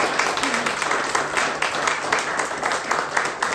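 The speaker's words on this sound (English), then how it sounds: "Thank you for clapping." An audience clapping after a spoken word poem, a dense, continuous round of applause from many hands, close and steady all the way through.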